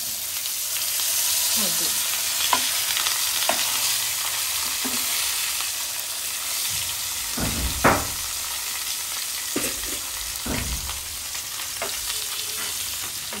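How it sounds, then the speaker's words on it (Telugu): Fish fries in a small nonstick pan for a home-style fish fry, with a continuous loud sizzle and occasional spatula scrapes and taps. A voice speaks briefly now and then beneath the frying. "వైపులా మంచి కలర్ వచ్చేంత వరకు ఫ్రై చేసుకోవాలి."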